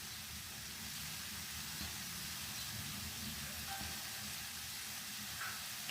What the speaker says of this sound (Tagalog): Kaya gisa-gisa muna tayo ng ampalaya.